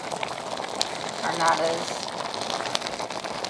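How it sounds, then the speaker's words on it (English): Apples cooking down into applesauce in a pot over medium heat give a soft, continuous sizzle and crackle, with a voice talking over it. "we'll just keep cooking this down, and we're still over medium. It's sizzling away."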